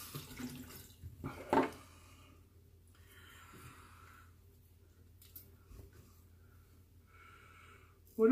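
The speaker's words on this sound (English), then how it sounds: "Just added a little bit of water." Water splashing and trickling at a sink as a little is added during a wet shave, soft running and dripping close by with faint breathing and shuffling between bursts.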